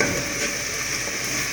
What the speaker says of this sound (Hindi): इसको 2 मिनट के लिए भूनेंगे